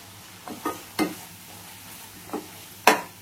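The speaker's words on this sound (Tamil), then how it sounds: "இப்ப லைட்டா மிக்ஸ் பண்ணி கொடுத்துருங்க." A spoon stirs capsicum gravy in a pan, making a few separate scraping strokes over a soft, steady simmer, close by with quiet gaps between.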